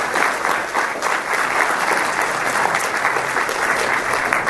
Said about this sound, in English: a round of applause for Bob